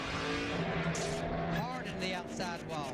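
NASCAR Nextel Cup race car at Martinsville slamming hard into the outside wall, a loud roaring engine and tire noise with screeching squeal sweeps, commentators talking over the crash.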